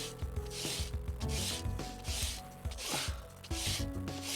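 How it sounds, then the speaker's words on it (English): Sanding on a guitar piece held against a sheet of glass on a lap, heard as rhythmic back-and-forth scraping strokes, about two per second, close and fairly quiet, with no talking. "I've got a piece of glass on my lap and I'm sanding."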